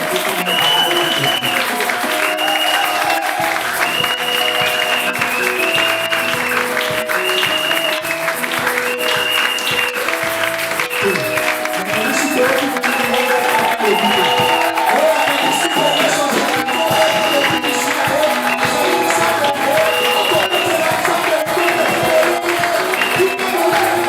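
A church congregation at a Sunday worship service applauding continuously for praise, steady, dense clapping from a large crowd blended with music and voices throughout.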